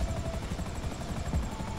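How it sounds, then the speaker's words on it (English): Helicopter in GTA 5 coming down to land near a bunker, steady rotor chop and engine whine, close and continuous with a regular thumping pulse. "just land the helicopter right, right here, or closer, to, close to your, uh, close to your bunker"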